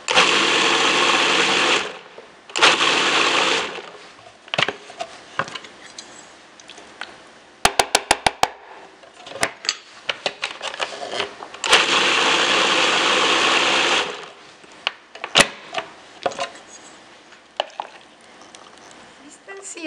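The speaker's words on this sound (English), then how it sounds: "we're only going to give them a few pulses, because what we want is a sauce with lots of texture" A food processor pulsing tomatoes and cilantro for salsa, giving several loud whirring bursts of a second or two each, separated by pauses filled with clicks, rattles and handling noise.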